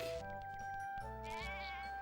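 Cartoon sheep bleat in the Animaniacs: The Great Edgar Hunt PS2 game, wavering animal cries over a steady musical backdrop, with two or three short calls across about two seconds.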